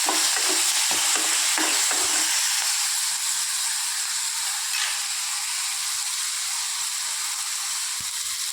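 Onions and tomatoes sautéing in oil in a pan, a steady loud sizzle and hiss throughout, with a few scraping stirs near the start.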